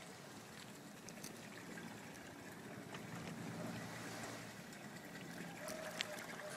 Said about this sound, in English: And there is water coming up all over